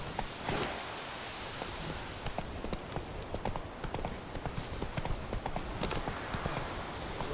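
Horse hooves clip-clop steadily along a road in The Witcher 3, an even close rhythmic trot of crisp knocks that continues unbroken throughout.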